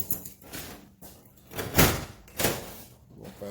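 A residential garage door opened partway, giving a few rattling, rumbling surges and thumps in an enclosed garage, moderately loud and close.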